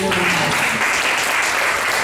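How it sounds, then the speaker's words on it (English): An audience bursts into loud applause, a dense wash of clapping that keeps steady throughout, with a brief voice at the very start. "Give them a round of applause."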